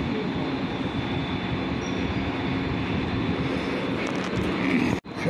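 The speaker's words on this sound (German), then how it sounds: "dieser Zug ist die Weiterentwicklung vom Velaro D, also von der Baureihe 407." A DB ICE high-speed train, Class 408, rushes past at Basel Badischer Bahnhof with a sustained rumbling roar and faint wheel noise, cut by a sudden brief dropout near the end.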